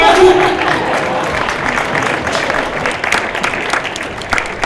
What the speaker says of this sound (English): Please come back so we can clap some more.